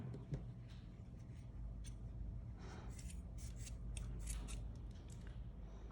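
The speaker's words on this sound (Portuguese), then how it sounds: "Vou cortar aqui, ó, só um pouquinho para ajeitar esse cabelinho." Scissors trim the yarn hair of a fabric yo-yo doll, a series of quiet, close snips and soft rustles over faint background hum.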